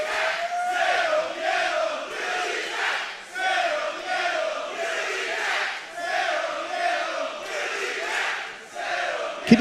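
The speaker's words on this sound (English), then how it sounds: "Just listen to this crowd" A wrestling crowd at a PCW Ultra event roars and chants in waves, loud sustained cheering that swells and dips rhythmically throughout.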